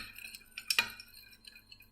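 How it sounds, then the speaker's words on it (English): A small spoon is picked up and handled while oils are mixed into a cream base, giving one brief pair of light metallic clinks in an otherwise quiet room. "I'm going to go off for a minute and grab this, my little spoon I've been using"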